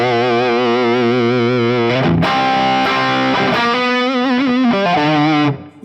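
An electric guitar runs through a Bludojai Lead amp with the overdrive turned all the way up, sustaining loud saturated notes, then shifting into a busier run of bent and changing notes before cutting off abruptly near the end.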